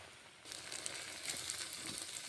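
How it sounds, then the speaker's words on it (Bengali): Green peas fry in butter in a hot pan, a soft hiss that swells after a brief quieter start into a continuous close sizzle with faint crackles, no talking. "বাটার দিয়ে মটরশুঁটি ভেজে নেব।"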